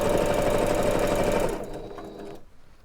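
A sewing machine back stitches pajama fabric for a memory bear, a close, rapid mechanical whir that runs steadily for a moment, then winds down and stops into quiet.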